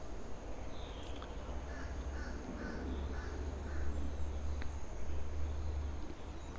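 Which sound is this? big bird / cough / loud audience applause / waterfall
big bird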